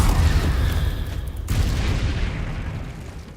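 A Confringo blasting spell goes off in the wizarding game Hogwarts Legacy, giving a loud, booming rumble that breaks off sharply and swells again before fading away.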